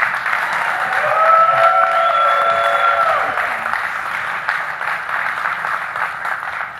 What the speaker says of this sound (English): I wanted to let you know that was your one and only time to applaud the candidates